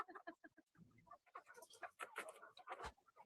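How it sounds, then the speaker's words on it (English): Nervous chickens cluck in short, faint, irregular bursts, a few birds calling over one another at a distance, with some low murmuring underneath. "Never seen such nervous chickens."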